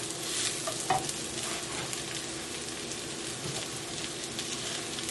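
Pink salmon omelette sizzling steadily in a hot pan just after a flip on a stove that has been switched off, a continuous close frying hiss with a brief louder spatter near the start.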